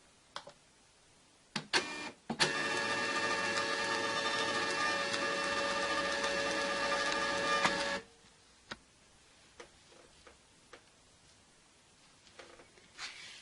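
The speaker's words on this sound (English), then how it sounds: "I'm going to just print a couple more and show you how easy it is to print with this ribbon printer" A ribbon printer prints onto ribbon, a steady mechanical whirring hum lasting about five seconds, bracketed by a few clicks and handling taps before and after in a quiet room.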